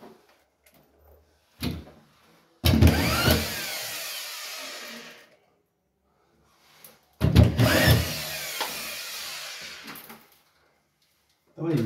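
Power drill driving screws into a drywall ceiling during plasterboard installation, two loud bursts of whirring lasting a few seconds each, separated by quiet pauses with light handling noises.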